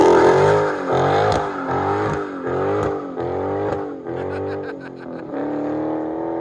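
A 2021 Dodge Challenger Scat Pack with a 6.4L HEMI V8 and dual exhaust pulls away, its loud, deep exhaust rising and falling through repeated revving surges that fade slightly as it drives off.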